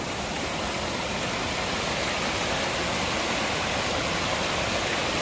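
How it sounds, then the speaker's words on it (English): Small waterfall pouring steadily, a dense, even rush of falling water heard up close, with no voices. "Little tiny waterfall."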